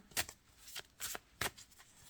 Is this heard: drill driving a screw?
no